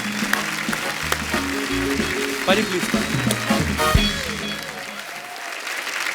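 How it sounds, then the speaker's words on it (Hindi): Studio audience on a comedy talk show breaking into loud, sustained applause and cheering, with voices heard over the clapping. "जोरदार तालियां हो जाए एक बार"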